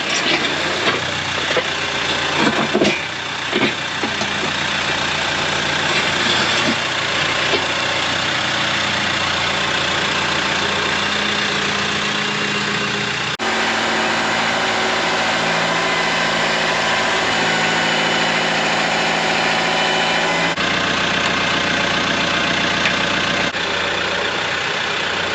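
A tractor with a front loader idles nearby with a steady, mid-to-low engine drone and faint vibration that holds unchanged for the whole stretch, with no voices over it.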